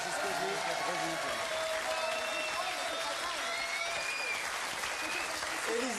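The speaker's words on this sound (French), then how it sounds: "Édouard, merci beaucoup, on peut l'applaudir aussi très fort" Studio audience on a French TV game show claps loudly and steadily for the full stretch, a dense wash of applause with a bit of crowd noise mixed in.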